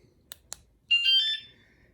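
Motorcycle alarm being armed by remote: two short sharp clicks followed by a bright electronic chirping beep lasting about half a second, close and clear with no talking.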